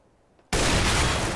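A single loud, booming AWP sniper rifle shot in Counter-Strike: GO bursts out after a half-second of near quiet and rings on as a broad, sustained roar.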